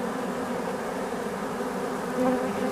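A dense, steady buzzing of many honeybees close by at an opened hive on a cloudy, muggy day, humming continuously with a slight swell near the end.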